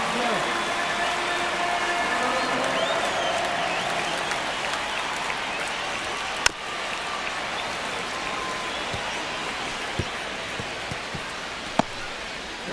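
A stadium crowd roars in a steady sustained wash during the ninth inning of an MLB The Show 25 baseball game between the Chicago White Sox and LA Angels, with a few sharp pops standing out near the end.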